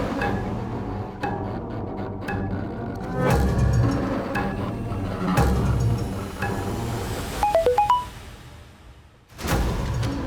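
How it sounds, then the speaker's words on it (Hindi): A mobile phone rings during a tense crime-drama scene, its short melodic ringtone chirping briefly near the end over background music and ambient room noise. "किसका मोबाइल बजा?"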